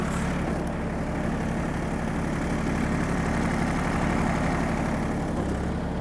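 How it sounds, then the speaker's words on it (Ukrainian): Small Iseki TU-217 Japanese mini tractor engine running steadily with the PTO engaged and rotary tiller lowered, a continuous close low idle-like hum and rumble with no speech. "Фреза опущена, а ми тим часом включимо вал відбору."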